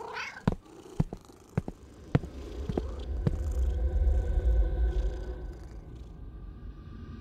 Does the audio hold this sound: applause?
no